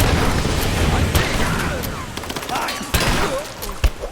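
Gunfire in the video game Tomb Raider: dense bursts of shots and booms fill the clip, with sharper cracks near the end and a voice calling out under the battle noise.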